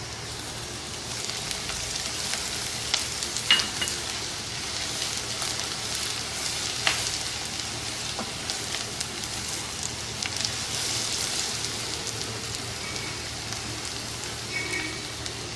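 Ingredients for a Pakistani restaurant-style chicken karahi fry to light golden in a pan, giving a steady close crackling sizzle like rain on a surface, with a few sharper spits and no talking.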